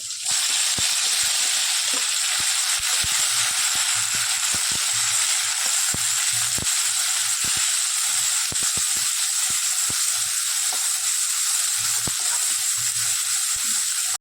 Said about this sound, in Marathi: आता वाटलेलं वाटण टाकलं आहे आणि त्यात मस्त मी परतून घेत आहे